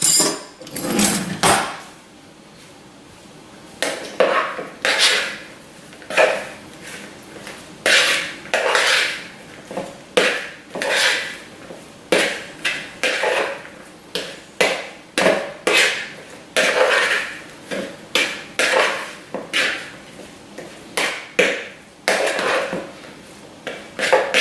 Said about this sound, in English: Gonna mix this all together.